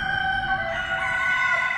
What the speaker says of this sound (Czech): A slyš, tu právě na blízce okrhá kohout ve výšce.